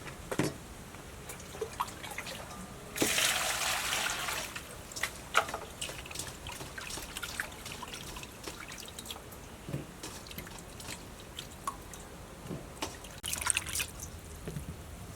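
Water running and dripping while blackberries are washed in a kitchen, a soft continuous trickle with scattered drips and splashes and a louder pour in bursts.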